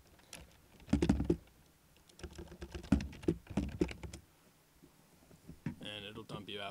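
Login credentials typed on a computer keyboard: irregular clusters of quick, close key clicks with pauses between them, and a short burst of talking near the end.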